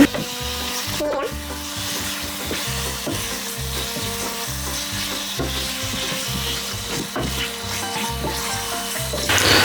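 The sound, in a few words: chicken added to frying pan and stirred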